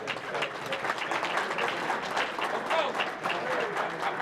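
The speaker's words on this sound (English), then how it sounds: "Let's give another round of applause." Sustained audience applause at a Martin Luther King Jr. Day breakfast, a steady dense patter of many hands clapping at moderate level throughout, with some voices mixed in.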